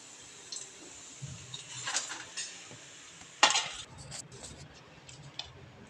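Mixed vegetable cutlets frying in hot oil, a soft, quiet sizzle with a few light clinks and scrapes from utensils, including one sharper clatter midway.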